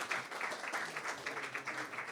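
Audience applause for cast members at a Friends of Alec Wilder concert at 54 Below in New York City: rhythmic, fairly quiet clapping from a modest crowd, pulsing evenly and continuing throughout.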